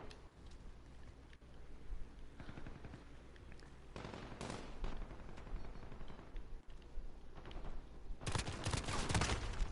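Pistol fire in Call of Duty: Modern Warfare, a string of gunshots with sharp cracks coming in irregular bursts, some close together, over a constant game background that grows denser toward the end.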